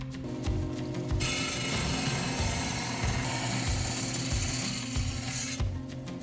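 A rock saw grinds steadily through a thunderegg, a rhyolite nodule that may hold agate, a loud continuous cutting whine holding for about four seconds between quieter motor sounds at either end.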